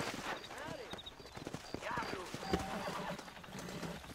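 Horse hooves clip-clop at a steady gait amid Red Dead Redemption game ambience, with a brief whinny and some talking mixed in.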